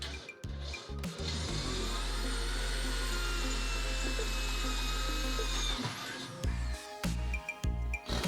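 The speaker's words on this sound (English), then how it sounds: "drill through that hole" A power drill drilling through metal while building a fire pit whines steadily for several seconds, biting and grinding, then cuts off, followed by a few short clanks and bursts.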